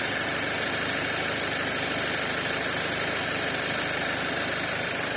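A 2013 Audi A5 engine runs steadily at idle after a no-start problem, a continuous close mechanical hum with a faint knocking rhythm and no voices.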